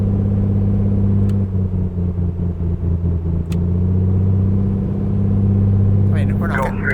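A light aircraft piston engine held at steady run-up RPM for a magneto check in Microsoft Flight Simulator, a loud even droning hum with slight dips in pitch, radio chatter and talking over it.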